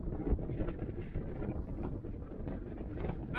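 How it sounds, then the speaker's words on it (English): Strong wind of over twenty knots roars steadily across the microphone on an inflatable fishing boat at sea, a dull buffeting rumble with no talking. "when it's wind, I don't mean wind like this, it's too much"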